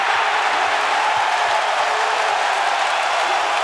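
Basketball crowd at Oracle Arena roaring during a Warriors playoff game, a steady, loud wash of cheering and applause filling the whole moment without a break.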